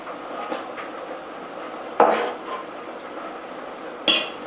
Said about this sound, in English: So I'm just chopping up a couple garlics,